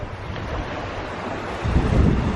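Surf at a cove on the Jurassic Coast: a broad, steady wash of waves that swells louder toward the end, mixed with buffeting wind noise on the microphone, with no voices.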